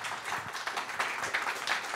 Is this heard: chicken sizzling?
no